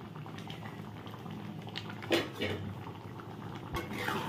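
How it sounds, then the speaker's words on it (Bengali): Moong dal with pumpkin stems and ridge gourd bubbles steadily in a pot, a continuous close simmering burble with occasional louder pops and a faint clink of utensils. "তো ডালটা একটু ফুটে নিই"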